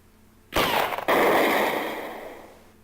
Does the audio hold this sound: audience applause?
no